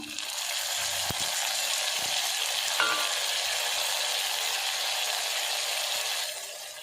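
Onion and tomato sauté in a pan with salt added, giving a steady, dense sizzle throughout. A few faint clicks of a utensil sit under the frying.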